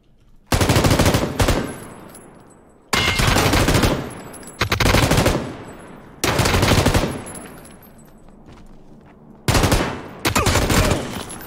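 Loud bursts of rapid automatic gunfire in a cave shooter video game, four or five long sustained volleys separated by short quiet gaps, no talking.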